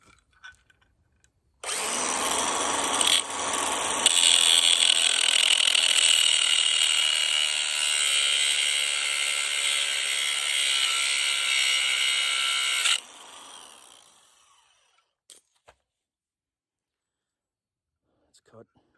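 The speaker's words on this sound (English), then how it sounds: "Let's start with grinding off this link." An angle grinder cuts through a metal chain link on a target stand: a sharp, loud, high-pitched whine with gritty grinding runs for about eleven seconds, then winds down, with a few clanks afterward.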